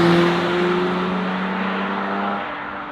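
A Subaru BRZ exhaust roars past at full throttle in a loud flyby, the note holding steady and then falling away as the car moves off, with no voices.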